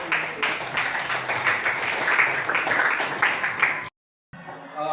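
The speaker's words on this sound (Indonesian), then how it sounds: "Tepuk tangan sekali lagi" A class in a school lesson applauds with quick, dense clapping that holds for about four seconds and then cuts off abruptly.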